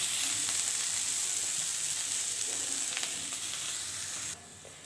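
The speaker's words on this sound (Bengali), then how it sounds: "কাঁকরোল দিয়ে আলু দিয়ে ভাজা হচ্ছে" Spiny gourd and potato slices sizzle steadily in hot oil, a close, crackling hiss with occasional stirring scrapes before the sound drops off abruptly.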